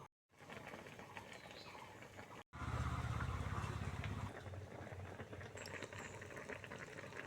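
Taro stolons and jackfruit seeds boil in a wok, giving a quiet, steady bubbling of water that grows slightly fuller partway through, with faint bird calls in the background.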